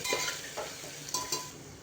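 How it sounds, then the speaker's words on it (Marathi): Ginger and garlic sautéing in oil over a low flame for masala rice: a soft, steady sizzle with a few brief stirring scrapes and clinks of a spoon against the pan. "आता ह्याचा आलं आणि लसणाचा कच्चा सुगंध म्हणजे वास जाईपर्यंत आपण परतलंय"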